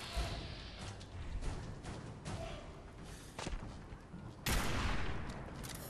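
Freezing combat shotgun blasts in Fallout 4, loud booming shots with heavy reverberant tails, one especially strong blast near the end, over continuous game ambience.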